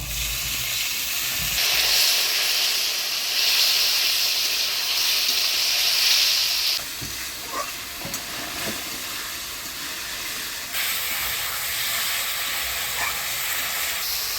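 Water hits spice paste of ginger, cumin, chili and onion frying in a pan, giving a loud hissing burst of steam and sizzle that then settles into a quieter, steady bubbling frying sound.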